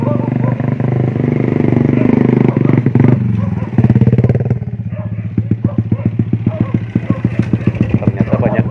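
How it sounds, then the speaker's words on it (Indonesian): A motorcycle passes along a village road in Desa Majalaya on a rainy afternoon, its engine droning loudly up close, then settling into a steady, pulsing putter with some clatter. "Nah, bentar dulu, ada motor ya."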